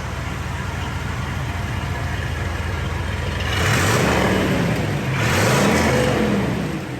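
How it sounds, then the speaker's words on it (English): A 1969 Corvette Stingray V8 with dual exhaust idles steadily, then revs up twice in strong, close swells before dropping back to a smooth idle. "Good sounding dual exhaust."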